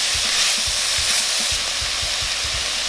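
Sausage fries in olive oil in a pan, a dense, even sizzle with soft popping spits and low thumps scattered throughout, close and continuous with no one talking.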